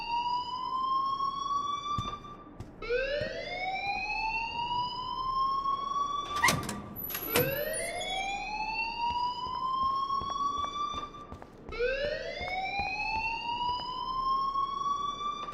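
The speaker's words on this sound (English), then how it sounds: "please turn off that alarm since that's your job" A fire alarm in the Life Is Strange video game sounds as a loud whooping electronic tone that sweeps upward and repeats every few seconds. A brief clatter breaks in partway through, and there is no talking.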